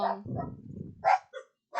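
A dog barks nearby in a couple of short, sharp barks separated by brief pauses, loud and close.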